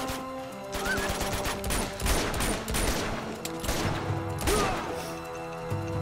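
Repeated gunfire bursts in Uncharted 2 Remastered, dense volleys of shots crashing over steady game music and ambience, loud and close throughout.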